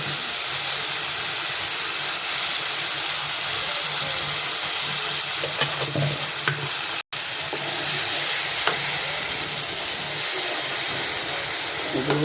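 Nigella and mustard seeds frying in hot oil for a Bengali dish, a steady close sizzle and hiss with faint crackles and scraping throughout, briefly cut out midway.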